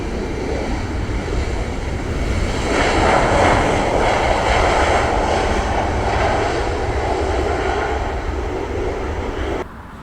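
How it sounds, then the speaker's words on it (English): An Emirates airliner takes off on the south side of LAX, its jet roar swelling into a broad, rushing rumble that holds steady before cutting off abruptly. "Oh, Emirates taking off on the south side."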